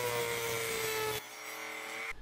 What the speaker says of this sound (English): a Dremel with a cutoff wheel really makes quick work of cutting off brad nails